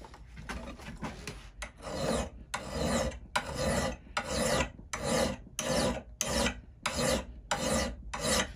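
A brand-new file rasps along the edge of a Gransfors Bruk axe in about a dozen steady back-and-forth strokes, each a close, harsh scrape with short gaps between.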